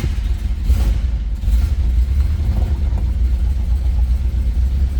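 A 1970 Dodge Challenger R/T with its original numbers-matching 440 Six-Pack V8 idles with a steady, deep low rumble, loud and close, with a slight swell in engine note partway through and no talking.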